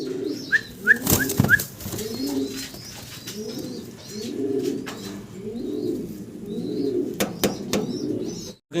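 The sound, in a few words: fancy pigeons cooing, grizzle colour pair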